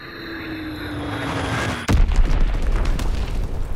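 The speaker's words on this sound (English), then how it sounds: "Enemy bomb incoming." An incoming enemy bomb in the Call of Duty WWII video game: a rising whistle and hum builds, then a loud, close explosion bursts and rolls on as a heavy rumbling roar.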